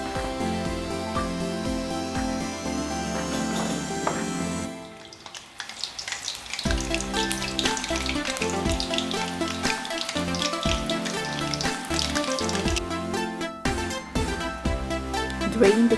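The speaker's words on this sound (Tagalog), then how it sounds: "Fry the chicken until the color is golden brown." Chicken pieces for honey sesame chicken frying in hot oil until golden brown, a steady close crackle and hiss mixed with music throughout.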